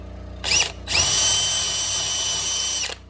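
A cordless power drill bores into soft wood, whirring in a short burst, pausing, then running in a long high-pitched whine before cutting off, close and loud.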